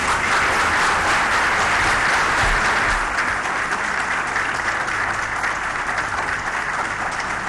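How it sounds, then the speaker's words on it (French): Audience at a diplomatic corps New Year greetings ceremony applauding a presidential speech, a loud, unbroken roar of many hands clapping that stays dense and steady throughout, with no voices over it. "Voilà un discours applaudi par l'assistance"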